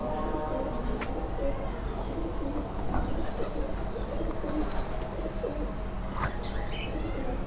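Domestic pigeons cooing in a loft, soft repeated low coos spread across the clip over a steady background hum with a few faint chirps.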